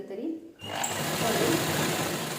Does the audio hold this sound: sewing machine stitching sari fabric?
yes